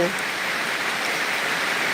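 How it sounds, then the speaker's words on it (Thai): Steady rain falls throughout, a dense hiss of drops with no breaks, fairly close and even in loudness. "วันนี้ ฝนตกนะคะ อากาศดีมากเลย"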